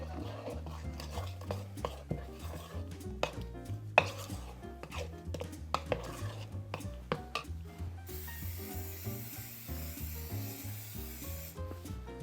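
Milk being stirred into breakfast batter in a bowl, a steady scraping and rubbing with a few sharper taps, running continuously under louder background music.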